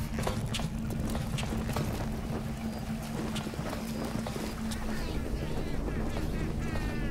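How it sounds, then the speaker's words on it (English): Footsteps in BioShock Remastered sound as a run of repeated clopping steps over a steady low hum, with faint ambient noise throughout. "Oh, they heard my footsteps."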